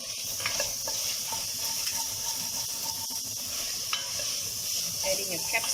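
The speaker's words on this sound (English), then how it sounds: "Give it a quick stir." Pasta sauce with a tablespoon of oregano being stirred in a pan for baked pasta, giving a steady sizzle with scraping spoon strokes and a few sharp knocks, no talking heard.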